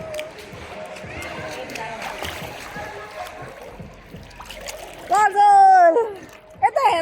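Water splashes and sloshes in a swimming pool. The splashes are close and intermittent, mixed with children's voices talking and calling out, and there is a louder burst near the end.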